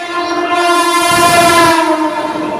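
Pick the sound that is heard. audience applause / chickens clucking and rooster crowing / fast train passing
fast train passing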